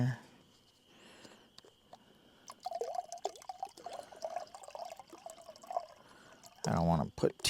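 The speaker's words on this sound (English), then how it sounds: "Pour some water in there." Water is poured into a small appliance during windy solo car camping, a soft liquid trickle mixed with talking and a sudden loud rush of wind noise near the end.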